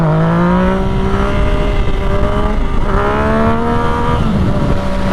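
A motorcycle revving hard in the rain for a clutch-up wheelie, its engine note rising and falling loud and close across several seconds.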